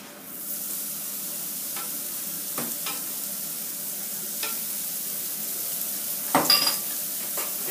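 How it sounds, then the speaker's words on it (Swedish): Onion browning in a pan for moussaka, a steady soft sizzle with a few scraping stirs and light utensil clinks, close by with no voices. "Då ska vi börja först att bryna lök."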